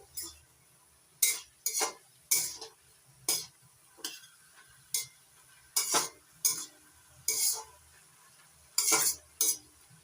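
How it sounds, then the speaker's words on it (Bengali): Spinach being stirred in a pan ahead of adding fried hilsa fish head, heard as a steady series of brisk, close scraping strokes of a spoon against the pan, spaced about every half second with short pauses, over a faint sizzle. "শাকটা একটু নাড়াচাড়া করে দিচ্ছি"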